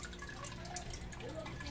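Water drips faintly from a DIY auto-refill water tank, with soft, irregular plinks heard against a quiet background hiss.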